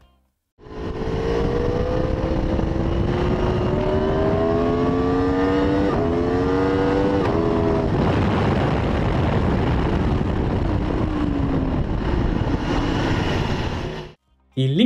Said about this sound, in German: Und auf einmal überkommt euch das Gefühl, mal so richtig am Gas zu drehen, wie zum Beispiel in diesem Video